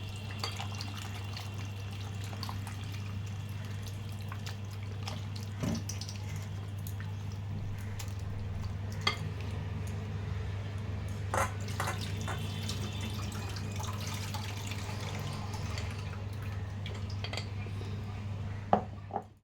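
Flour dough is washed by hand under running tap water in a kitchen, a faint continuous trickle with scattered soft splashes and occasional clinks of a bowl, beneath a steady low hum.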